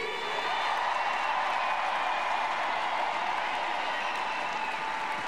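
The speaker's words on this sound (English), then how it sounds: "So one round of applause for our amazing team." Steady crowd applause and cheering for a women's soccer team at a Portland Thorns 2022 championship celebration, a dense continuous roar of clapping that holds loud and even throughout.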